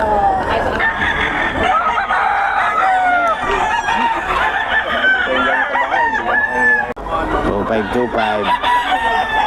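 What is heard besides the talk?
solid white Kelso rooster crowing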